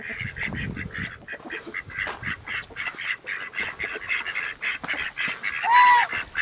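A flock of farm ducks calls in a steady run of loud, overlapping quacks and honks. The calls come close together at close range, with no talking over them.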